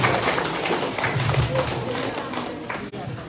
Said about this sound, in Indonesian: Tepuk tangan untuk para hadirin.